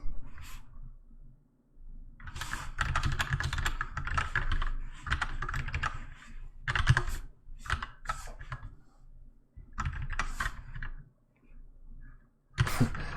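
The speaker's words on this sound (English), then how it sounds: "I'm so used to my old keyboard, I keep hitting the wrong key here." Close, loud computer keyboard typing during C++ programming work arrives in rapid bursts of clattering keystrokes separated by short pauses.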